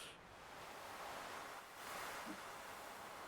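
Ocean surf in the Stardew Valley video game rolls as a continuous broadband wash, swelling and easing in slow waves, steady and fairly loud with no talking over it.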